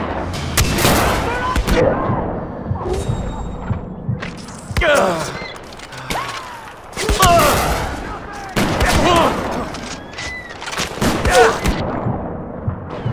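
Gunfire bursts from a mounted machine gun in Far Cry 4, loud and close, firing in several clusters amid explosions and game effects, with someone briefly speaking over the shooting.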